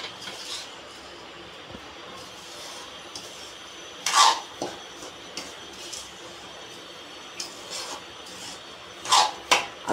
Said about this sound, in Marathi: एकसारखा रवा भाजायचा आहे कमी गॅसवर.